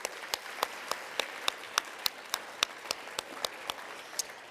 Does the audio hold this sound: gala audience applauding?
yes